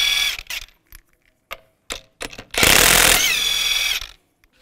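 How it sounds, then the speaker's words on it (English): A 22mm socket on a tool spins lug nuts off the wheel of a 2015-2020 Cadillac Escalade, heard as a few short bursts and then a longer loud whirring run, close up and with no talking. "Use a 22mm socket and take the lug nuts off."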